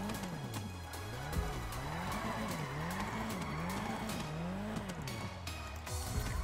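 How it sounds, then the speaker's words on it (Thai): A car in GTA V FiveM drifting with handbrake pulls, its engine note rising and falling in rapid revving swoops while tires skid and squeal continuously. "ดึงเบรกมือบ้างเป็นบางจังหวะ"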